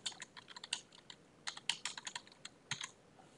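Quick, uneven keystrokes clatter on a computer keyboard in short bursts with brief pauses, faint and close, alone without speech.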